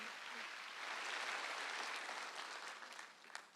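Applause from a church congregation at a Wednesday worship service fills the space steadily and evenly, a dense wash of many hands clapping at once that fades a little toward the end.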